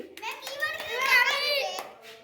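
Children clap in a quick, soft burst in a classroom game, with a voice speaking over the claps.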